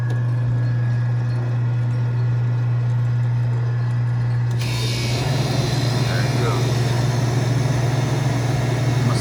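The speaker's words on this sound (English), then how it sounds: "now the auger is spinning." Auger motor of a Hoshizaki DCM500 ice machine running during a rebuild, a loud steady hum with a constant low drone that grows noisier and fuller partway through.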